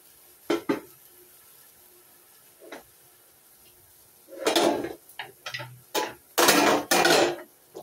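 A metal lid clanks onto a cooking pot while pans clatter in a home kitchen during bitter gourd cooking: scattered sharp knocks, then a busier cluster of loud clanks and scrapes near the end.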